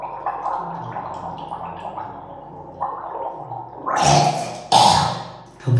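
Someone gargles salt water in the throat, with wet bubbling bursts that grow louder toward the end, close up.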